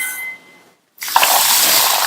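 Rice is washed in a vessel: after a brief quiet, water suddenly gushes and splashes loudly and close, sloshing steadily to the end.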